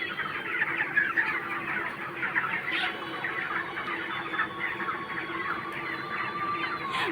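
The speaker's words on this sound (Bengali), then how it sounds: "ওকে দেখে মুরগিগুলো সব ভয়ে সরে যাচ্ছে" Chickens clucking and squawking in a steady, busy chorus as the flock scatters in a fright, fairly close and continuous with no talk over it.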